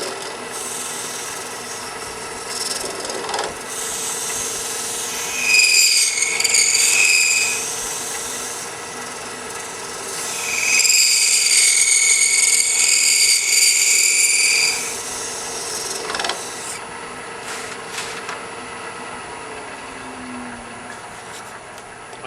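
Hand scraper shaving wood on a knockout bar, cleaning up a small knot; two bursts of bright, rasping scrapes, each a few seconds long, close and fairly loud, separated by quieter handling noises.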